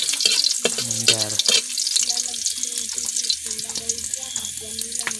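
Garlic sautéing in a pan, a steady frying sizzle with stirring clatter, close and loud, with some background music-like tones throughout.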